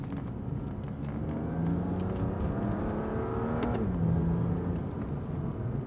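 A BMW M2 Competition's engine drones steadily on the Dreux race circuit while overtaking, its pitch rising and then briefly dipping in a continuous close in-car roar, with no talking.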